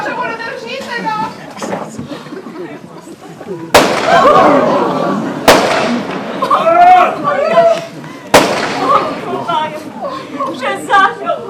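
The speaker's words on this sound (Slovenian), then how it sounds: "Kar streljal je." Gunshots fired during a frantic indoor commotion: three sharp, loud bangs ring out a couple of seconds apart amid shouting and overlapping voices.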